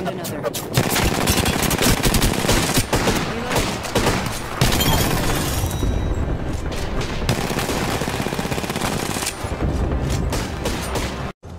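Loud, close automatic gunfire rattles almost without pause in an Apex Legends battle, with dense bursts of shots running nearly the whole time and a brief drop-out at the end.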